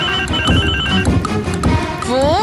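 A telephone rings loudly in a home in a Telugu TV serial, with a repeated ringtone pattern and a rising tone near the end, heard close.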